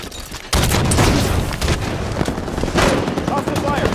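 Gunfire in Halo 5 Big Team Battle Slayer on the Guillotine map: dense bursts of shots and booming impacts running continuously throughout, loud and cluttered, with game voice callouts mixed in.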